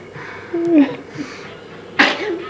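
A pet cat gives a short, sharp sneeze indoors, preceded by a quieter snuffle, with a person's voice briefly audible nearby.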